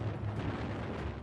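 Mortar explosions and heavy wartime gunfire form a dense, continuous low rumble with blasts blurring together, loud and without any voices.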